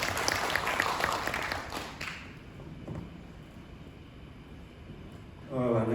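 An audience at a culture forum in Korea claps to welcome a speaker to the stage, dense applause for about two seconds that fades to quiet room noise, with a voice starting to speak right at the end.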